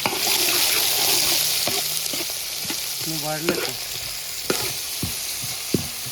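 Onions fry in hot oil for a mutton kurma, a loud, continuous close sizzle with occasional clanks and scrapes of a spoon stirring the pan; nobody talks.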